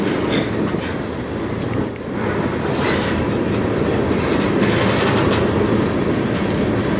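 A CN freight train rolls past on the Strathroy Subdivision, a loud, continuous roar of rail traffic with clattering wheels and occasional high squeals, sustained and close throughout, no voices.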